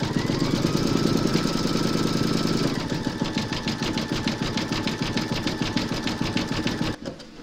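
An embroidery machine stitching an appliqué outline runs with a fast, even mechanical chatter of needle strikes close by, the rhythm shifting slightly partway and stopping near the end.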